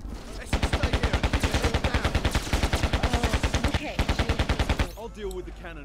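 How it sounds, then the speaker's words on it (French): Assault rifle gunfire in Carrier Command: Gaea Mission, a close, loud, rapid steady stream of automatic shots lasting nearly five seconds, briefly broken once, then stopping abruptly into quieter game sounds. "Je fais du sniper avec une arme d'assaut."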